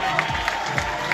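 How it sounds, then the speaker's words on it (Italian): A large crowd applauds at the official SSC Napoli 2024/2025 team presentation, sustained dense clapping with cheering, steady and moderately distant throughout. "Facciamo un applauso al nostro Tommy"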